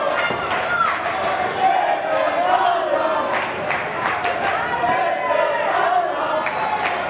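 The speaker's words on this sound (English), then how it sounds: "The crowd really showing their appreciation here" Wrestling crowd at an indie show in Hialeah, Florida, roaring and shouting steadily for the whole stretch, loud and dense, with yells and claps poking out and a commentator's voice running over the top.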